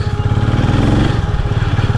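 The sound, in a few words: motorcycle engine running at petrol station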